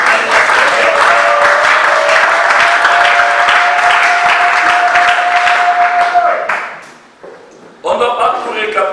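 A church congregation breaks into loud, sustained applause and cheering that fills the room, then fades out, and a fresh burst of clapping starts near the end.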